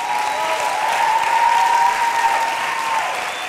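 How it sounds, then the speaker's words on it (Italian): Sustained, even audience applause at a benefit auction in a theatre, loud and close, with a faint ringing tone running underneath. "Un applauso a Massimiliano Bruno"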